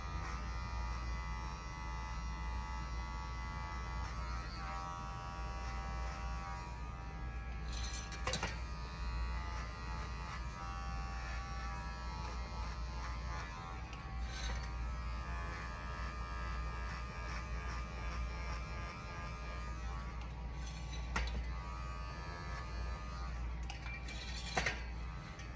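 Electric hair clippers buzz steadily through a bald fade, a low, constant, close hum with occasional small clicks and taps as the lever and blade move, and no voices.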